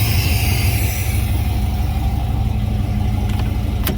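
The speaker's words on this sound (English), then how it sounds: "Because it's too loud underneath the hood." Car engine running with the hood open, a loud steady idle heard up close with a constant low rumble and a brief sharp click near the end.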